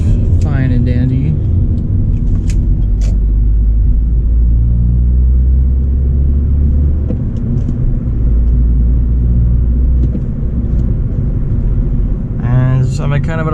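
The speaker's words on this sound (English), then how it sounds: "This is the F22 B1 VTEC E engine" 1997 Acura CL with an F22B1 VTEC-E engine cruising at low RPM in fifth gear, a loud, steady low rumble of engine and road noise, with someone talking briefly at the start and end.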